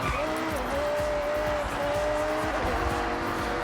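Audi R8 with a 5.2-liter naturally aspirated V10 in Forza Horizon 6, a continuous loud engine drone with a sustained tire squeal running across the whole stretch.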